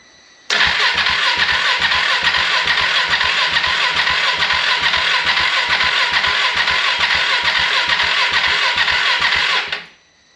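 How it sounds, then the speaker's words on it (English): A rebuilt KTM 690 Duke single-cylinder motorcycle engine fires up for its first start, catching quickly and running at a loud, steady, throbbing idle for about nine seconds before shutting off. "We'll give her its first fire up."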